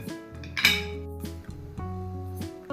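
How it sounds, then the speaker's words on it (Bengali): A metal steamer set onto a pot of hot water for momos and covered with a lid, giving a few close ringing clinks and clanks with lingering metallic tones. "স্টিমার বসিয়ে দিলাম, তারপরে ঢাকনা দিয়ে দিলাম।"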